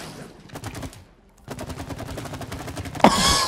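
Rapid-fire gunfire from shooting in the video game It Takes Two, bursts of evenly spaced shots with a brief pause near one second, then a sustained volley that ends in a louder, brighter blast.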